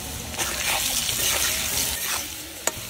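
Potatoes fry with salt in leftover fish oil in a pan, a dense continuous sizzle with light stirring scrapes and a sharp clack near the end, close up and without speech.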